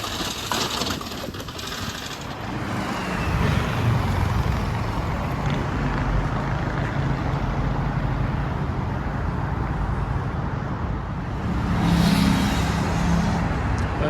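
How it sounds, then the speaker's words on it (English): Cars roar past on a busy highway near the Roland Garros stadium in Paris, a steady broadband rush of traffic swelling as vehicles pass close around the middle and again near the end, with no talking. "Highway again, same highway."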